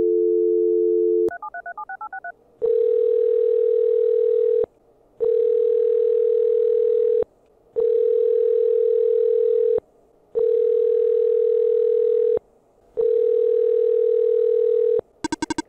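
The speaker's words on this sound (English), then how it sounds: "Well, she didn't pick up the phone." A ringing telephone in the video game OneShot, a steady dial tone and a quick burst of dialing beeps followed by five long evenly spaced ring tones that go unanswered, loud and clear with no talking.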